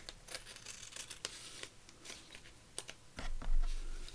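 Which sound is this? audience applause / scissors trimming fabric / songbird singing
scissors trimming fabric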